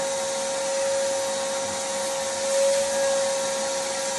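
A vacuum cleaner runs steadily and close, a constant whining hiss with a pure high tone, picking up foam carving debris while an owl is carved from foam.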